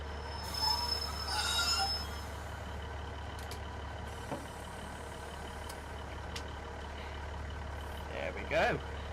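A train arriving at Pwllheli station on the Cambrian Line in Train Simulator 2021, with a steady low engine rumble, intermittent wheel squeal and a few brief clanks near the end.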